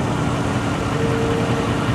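A 2002 C5 Corvette with an LS1 engine idles steadily, a constant low rumbling drone close by with no voices.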